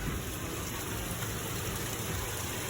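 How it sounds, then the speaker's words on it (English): Heavy rain pours down during a thunderstorm at night, a dense, steady hiss of falling water that stays even throughout with no distinct thunderclap and no voices. "It was pouring down, raining, thundering, and everything."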